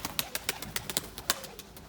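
Sharp, irregular clicks and flutters close by with soft low cooing underneath, like pigeons moving and calling in a loft; tumbler pigeons kept for breeding in a coop.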